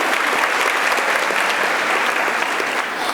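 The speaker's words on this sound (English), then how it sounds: "Clap to Mr. Vinsoy." A graduation audience at Hillcrest High School claps steadily for a teacher, a dense, even wash of many hands that holds at full strength, close and loud throughout with no talk over it.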